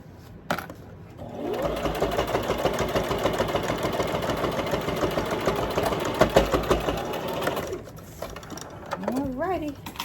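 A sewing machine stitches a zipper bag in one steady, dense run of needle clatter lasting about seven seconds, starting and stopping cleanly, with a brief voice just after it stops.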